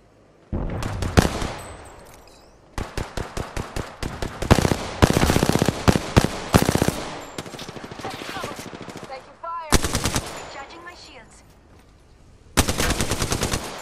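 Automatic weapon fire in the Apex Legends video game, loud rapid bursts of gunfire repeating in clusters across the stretch, with brief pauses between bursts and occasional voice underneath.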